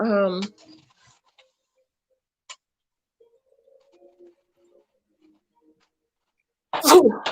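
A single sharp sneeze bursts out near the end after a stretch of near silence, preceded by a brief spoken word at the start.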